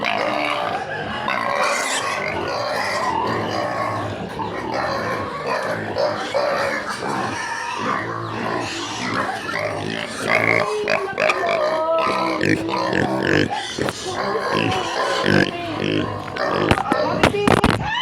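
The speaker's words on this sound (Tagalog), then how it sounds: "Baboy talaga to." Pigs at feeding time in a piggery grunt and oink almost without pause, a crowded, close chorus of snorts and squeals that runs through the clip alongside clattering and shuffling noise.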